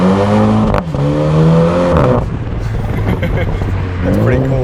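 A Mini John Cooper Works in sport mode revs loudly and close up, its exhaust note climbing and falling in strong harmonic sweeps, with a few brief crackles between the pulls.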